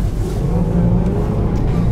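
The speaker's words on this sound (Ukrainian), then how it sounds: "Мотор гуде." Range Rover engine humming steadily while driving with four-wheel drive, a continuous low drone with road rumble filling the whole stretch, fairly loud and close inside the vehicle.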